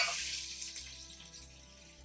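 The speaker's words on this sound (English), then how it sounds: "we can add our onions and allow them to saute" Chopped onions sauteing in hot bacon fat for a minestrone soup, a soft steady sizzle with brief louder hiss bursts at the start, close and fairly quiet.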